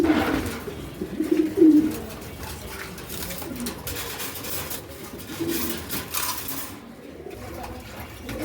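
Pigeons kept for sale at a seller's loft coo low and intermittently, loudest near the start, over steady background murmur and faint rustling.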